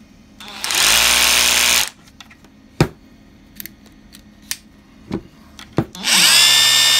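A DHR202 rotary hammer drill whirs loudly in reverse for about a second, stops amid a few clicks and knocks of handling, then starts up again at the end.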